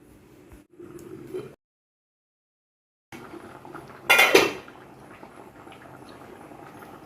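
A pot of river-fish curry simmering on medium heat gets a metal lid set on it with a sharp, close clank after a brief silence, followed by faint bubbling and pot noise.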